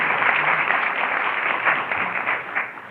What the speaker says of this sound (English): a big round of applause for Pat Mulroy, our keynote speaker